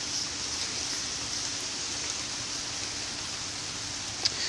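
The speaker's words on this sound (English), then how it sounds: "the rain intensifies" Dense steady hiss of heavy rain heard from beneath tree cover, a constant wash of drops with a single sharper drip or tap near the end.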